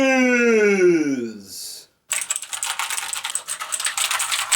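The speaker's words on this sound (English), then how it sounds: "We all love them Cherry MX Blues!" Fast, crisp clicks come from typing on a cheap mechanical keyboard with Cherry MX Blue switches, an iMac-style knock-off. The loud, close clatter follows a rising hum-like voice sound and a short pause.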